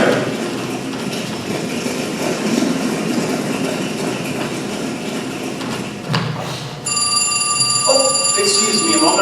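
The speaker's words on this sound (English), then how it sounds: "I have to answer the phone" A telephone rings on stage during a high school theater production of Harvey, its steady electronic ring starting near the end over a room-filling background hum.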